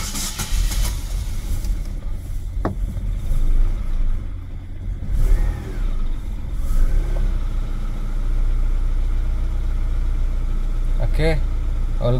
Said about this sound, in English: So then after we're going to start the car.